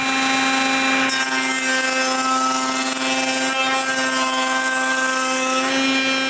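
A router with a fresh bit cuts grooves along wooden boards for a mobile workbench, a loud, steady tonal whine with a brief change in pitch as the cut begins, continuing without pause.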